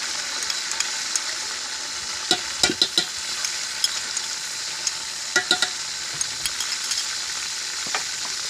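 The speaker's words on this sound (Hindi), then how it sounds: "अब हम इसके अंदर अदरक लहसुन का पेस्ट डालेंगे।" Onions with ginger garlic paste fry in a pan, giving a steady close sizzle broken by a few scrapes and knocks of stirring, with no voices.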